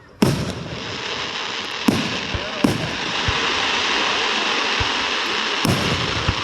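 Fourth of July glitter strobe fireworks fire as several sharp booms over a continuous dense crackling sizzle, heard close and loud.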